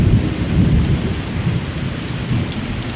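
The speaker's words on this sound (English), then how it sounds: "thunderstorms that just pop up out of nowhere" Heavy rain roars steadily during a thunderstorm while low thunder rumbles underneath, loud and continuous with no voices.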